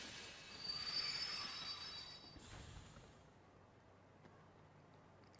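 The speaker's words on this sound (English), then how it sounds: "The train will be arriving shortly." A train pulls into a station in the Kingdom Hearts II video game, with high metallic wheel squeals over a low rolling rumble that fades as it slows, and no voices.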